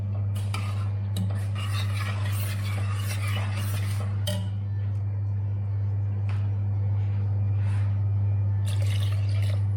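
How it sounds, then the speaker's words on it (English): Two cups of water are poured into a pan of seafood rice, a soft trickling splash with light clinks of cookware over a constant low electrical hum from the kitchen. "We're going to throw in 2 cups of water."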